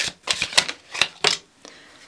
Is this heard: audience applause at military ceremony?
no